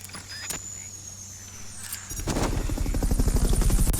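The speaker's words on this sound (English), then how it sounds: "Fulton recovery subject confirmed onboard helicopter." Helicopter in Metal Gear Solid Peace Walker picking up a Fulton recovery subject: after a quiet start with faint clicks, a loud, close rotor chop with a steady rapid beat takes over and runs to the end.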